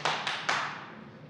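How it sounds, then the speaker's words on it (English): A crowd at an esports event claps, heard in two or three quick bursts of dense applause that swell and then fade away into the room. "I heard that clapping."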